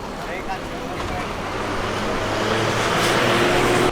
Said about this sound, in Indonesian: Tidak lama masuk bus Putra Rafflesia tujuan Bengkulu teman-teman, dengan bodi SR2 HD Prime bermesin 1626.